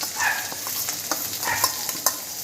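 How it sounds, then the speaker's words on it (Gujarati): Finely chopped onions, a large variety, sauté in a pan with green chillies and ginger, giving a steady close sizzle broken by occasional sharp stirring scrapes for a couple of seconds, with no talking. "એનો કલર બદલાય ત્યાં સુધી આપણે ડુંગળીને સાતરવાની"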